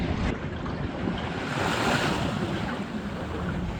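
Waves rolling against the side of a hand-built solar yacht at sea between Åland and Sweden in winter, a steady close wash of water with wind noise over it, no voices.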